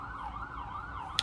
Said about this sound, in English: I'm sorry that y'all hear these sirens.